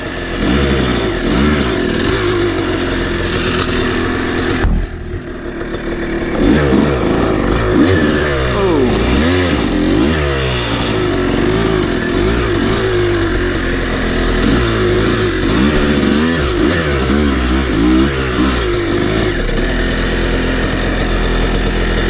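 A Kawasaki KX250 dirt bike's engine roars loud and near along a rocky creek, its two-stroke note rising and falling in repeated revs with a brief dip partway through.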